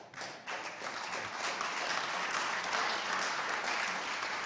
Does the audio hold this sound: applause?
yes